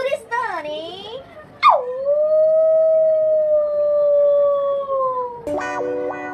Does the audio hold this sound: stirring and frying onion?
no